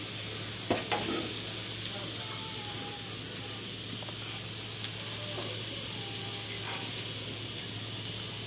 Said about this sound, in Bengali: তো আমি কড়াইতে পেঁয়াজ দিয়ে দিচ্ছি